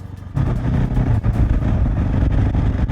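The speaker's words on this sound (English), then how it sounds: "I'm going 45 miles an hour in 6 and it is very chuggy. That's the problem with a single cylinder." A 2021 KTM 690 SMC R single-cylinder motorcycle chugs along in sixth gear at about 45 mph, its engine a steady, loud, low pulsing drone that persists throughout without any voices.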